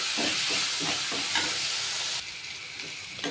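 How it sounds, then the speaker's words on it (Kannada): Tomato sizzling and frying in a pan with onion, a steady loud hiss with stirring scrapes and small crackles throughout, no voices. "ಟೊಮೊಟೊನು ನೀಟಾಗಿ ಫ್ರೈ ಆಗಲಿ."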